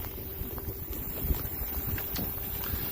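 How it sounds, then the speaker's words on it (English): Wind gusting steadily outdoors at an RC plane flying field, a continuous rough rumble buffeting the microphone throughout, with no talking. "There, the wind just picked up crazy, of course."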